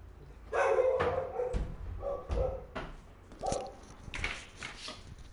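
A dog barks in a series of loud, close, sharp barks with short gaps, some rising into yelping whines, fading to quieter barks toward the end.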